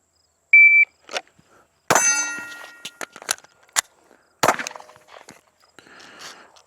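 Glock pistol fired with Magpul magazines at steel targets, a short electronic timer beep followed by several sharp shots and ringing metallic clangs from the steel, loud and spaced irregularly, no speech.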